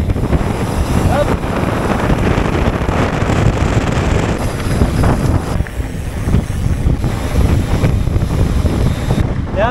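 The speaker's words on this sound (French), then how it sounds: "Il y a un petit vent chaud là" A warm wind blows hard across the microphone during a downhill stretch of a mountain bike stage race in the Moroccan desert, a loud, constant roar and buffeting that lasts the whole time.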